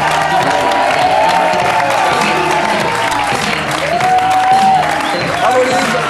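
Studio audience at a French television variety show applauds and cheers a performer named Luz, with steady dense clapping and a crowd roar, while voices talk over the noise.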